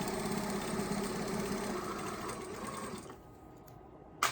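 A domestic sewing machine stitching fabric for a beginner dining scarf, a steady fast mechanical whir running for about three seconds before stopping, followed by quiet and a small click near the end.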